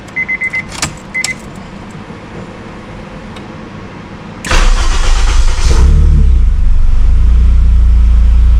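Honda S2000 with a K-series engine swap cranks and fires up at a cold start, then settles into a loud, steady idle close by, following a few short electronic chimes.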